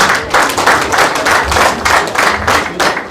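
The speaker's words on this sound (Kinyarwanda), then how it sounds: "mujye mubanira amashyi" An audience at a celebration claps loudly and close by in a brisk, rhythmic pattern of repeated bursts, steady and energetic throughout with no talk over it.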